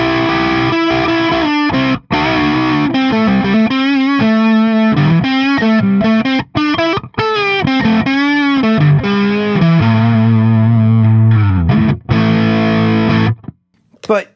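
Donner DST 152S electric guitar on its middle pickup position, played through distortion: loud, sustained overdriven chords and bends ringing on with brief gaps between phrases, no talk over it.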